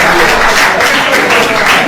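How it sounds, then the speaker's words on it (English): A large crowd at a workshop in Ibadan applauding loudly and continuously, a dense wash of clapping with no pauses. "Please, I need a loud round of applause for him."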